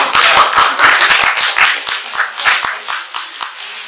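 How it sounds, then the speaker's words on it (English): A small audience at a business mindset talk claps with loud, close, crisp handclaps that start dense and thin out over a few seconds. "You guys give her a round of applause."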